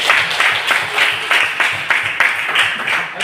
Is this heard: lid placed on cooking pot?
no